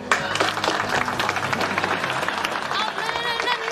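A studio audience claps and applauds through a sitcom scene, a dense wash of hands mixed with crowd noise while people talk over it.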